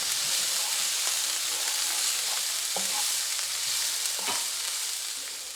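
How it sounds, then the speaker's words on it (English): Onions caramelize in a hot pan with a steady, dense sizzle close up, while a spoon scrapes and stirs them in a few soft strokes. "So we're gonna caramelize these onions, and I'm gonna continue to stir every minute or so until they're browned"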